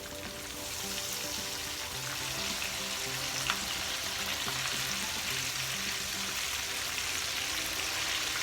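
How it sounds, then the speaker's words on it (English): Cube steak fries in a pan just after being flipped, a steady, even sizzle running unbroken at moderate level with faint crackles, no one talking. "I'm actually fixing to flip over my cube steak."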